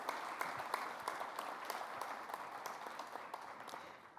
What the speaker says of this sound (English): I want to give you all already that first applause.